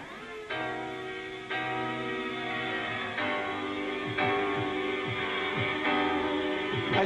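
A jungle track built on sampled soul vocals plays on, sustained sung tones over a rolling low bassline and rapid breakbeat hits, with the layers stepping up in intensity every second or so and no talk over it.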